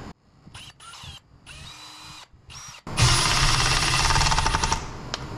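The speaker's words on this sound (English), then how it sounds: "Drill a hole." A power drill bores a hole in a DIY kitchen build, first a few short stop-start bursts of the motor, then a loud sustained drilling run for about two seconds, close up.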